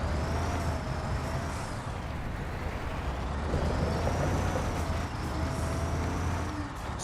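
A Scania P500 truck in Construction Simulator idles and drives with a steady low diesel rumble, light road noise and faint whining tones rising and falling, close and continuous with no talk.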